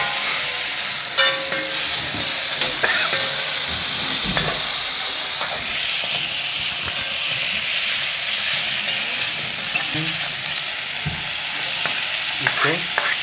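Steady close sizzling and frying of spice paste in a hot pan for potato dal, with occasional stirring scrapes over a continuous hiss.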